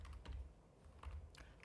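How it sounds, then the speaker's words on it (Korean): Keys struck on a computer keyboard during accounting software data entry, a handful of separate faint clicks spaced irregularly in a quiet room. "키보드에서 탭키를 눌러주시면 바로 오른쪽으로 넘어갑니다"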